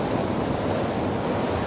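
Ocean surf washing over coastal rocks on the Sydney shoreline at Turimetta, a steady, close roar of rushing water with some wind noise, no voices.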